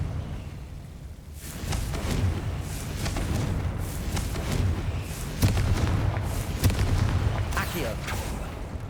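Confringo blasting spells going off in the Hogwarts Legacy video game, a string of punchy booms and crackling impacts spread over several seconds, with a voice talking over them.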